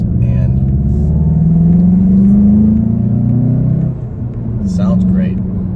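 A 2021 Volkswagen Jetta GLI S with a 4-cylinder engine and 6-speed manual revs up in a close, rumbling rise, then eases off and climbs again, with a person talking over it.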